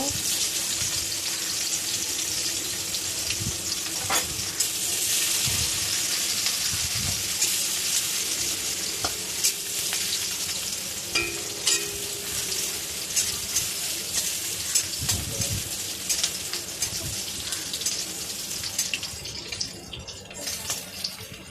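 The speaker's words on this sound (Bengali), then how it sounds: "পেঁয়াজটা একটু ভাজা ভাজা করে নেবো" Continuous hissing sizzle of onions frying in oil, steady and fairly loud throughout, with occasional light clatter.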